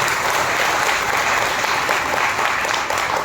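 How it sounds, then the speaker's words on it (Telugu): A church congregation at a Sunday worship service claps loudly in praise, steady dense applause filling the room without a break. "బిగ్గరగా ప్రభువును స్తుతిస్తూ చప్పట్లు కొడతాం"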